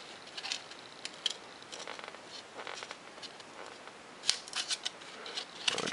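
Scissors snip out small parts for a micro 30mm EDF RC jet, with quiet, scattered cuts and rustling, a few sharper snips standing out near the end.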